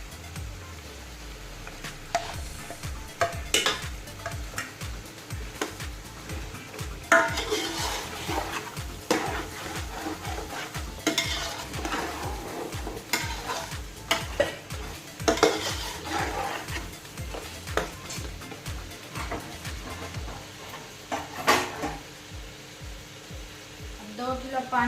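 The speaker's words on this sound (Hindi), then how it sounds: "पिसा हुआ गरम मसाला मिक्स करेंगे।" Ground garam masala being stirred into mutton biryani cooking in a pot at home: continuous rhythmic scraping of a spoon against the metal pot, with clinks and a soft sizzle throughout.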